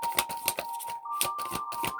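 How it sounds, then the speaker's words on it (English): A deck of tarot cards is shuffled by hand, giving a series of quick crisp riffling and flapping bursts in an uneven rhythm, close and fairly quiet, over a faint steady tone. "I'm going to go ahead and shuffle."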